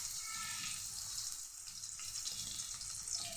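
Chopped onion frying in hot oil while samosa filling is made, giving a steady, even sizzle that runs unbroken and fairly close for a few seconds, with no talking.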